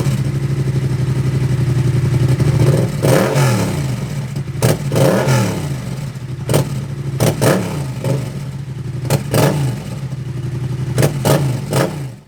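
A Yamaha MT-07 motorcycle fitted with a homologated exhaust baffle idles with a deep steady throb, then the throttle is blipped in several sharp, close revs that rise and fall back to idle.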